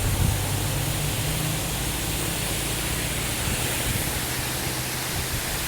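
Curug Ceret, a roadside waterfall along the Naringgul road toward Cidaun, produces a constant dense rush of falling water, loud and close, steady without pauses and with no voices over it.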